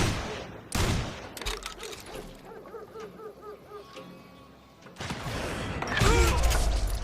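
Gunshots in the Western shooter Call of Juarez: Gunslinger: a few loud, sharp cracks spaced across several seconds, with quieter mechanical game sounds and a lull between them.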